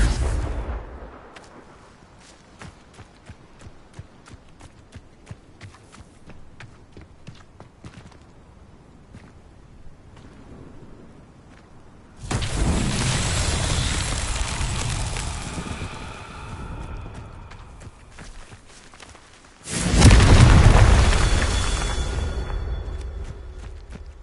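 Confringo blasting spells in the Hogwarts Legacy video game: two loud, heavy explosive bursts with rumbling tails, following a quieter stretch of scattered clicks and small impacts.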